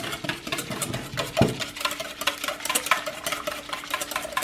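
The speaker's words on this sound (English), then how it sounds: "So now we are going to whisk it until we get a nice golden color" Whisking a mixture in a bowl while it cooks toward a golden color for an Armenian cheese pie, a steady rhythmic scraping and stirring close by with one sharper clank, no talking.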